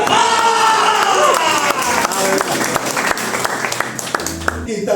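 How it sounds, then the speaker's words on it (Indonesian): A congregation at a church healing service and third-anniversary worship bursts into clapping and cheering, a dense crowd applause mixed with raised voices that fades toward the end. "Kita berikan tepuk tangan sekali lagi"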